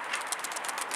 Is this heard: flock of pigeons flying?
yes